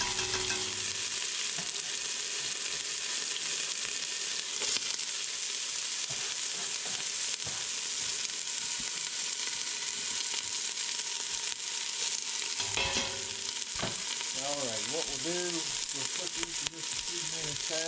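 Onions fry in olive oil in a pot with a steady, close crackling sizzle, broken by occasional stirring scrapes and clatter of a spoon, while a voice speaks faintly near the end.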